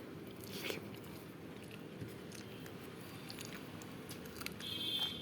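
Someone chews a mouthful of rice with cooked papaya up close, with soft, wet biting and mashing sounds repeating quietly and no talking.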